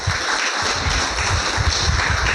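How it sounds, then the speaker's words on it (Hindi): An audience at a spiritual class applauding themselves, many hands clapping in a dense, sustained, loud burst close by. "अपने लिए ताली बजाओ"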